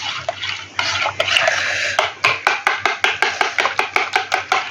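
A spoon stirs salted buttermilk in a vessel, its sloshing turning into a quick, regular run of sharp clinks against the container, close and fairly loud.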